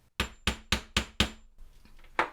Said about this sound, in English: just place it on top and hammer about 4 or 5 times